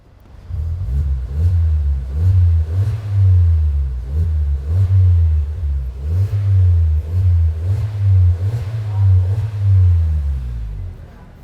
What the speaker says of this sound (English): I'm gonna give you guys a couple of revs so you guys can hear exactly what it sounds like